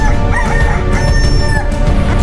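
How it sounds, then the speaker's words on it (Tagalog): A rooster crows loudly and close, a long drawn-out cock-a-doodle-doo, with a few clucks from other fowl around it. "Kinalaunan ay tumilaok ng malakas ang manok"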